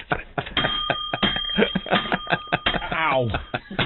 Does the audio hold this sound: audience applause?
no